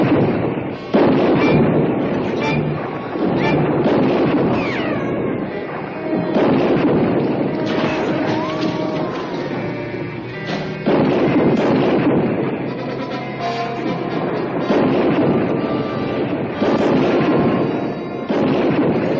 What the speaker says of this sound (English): Are you going to let us just sit here and get shot at?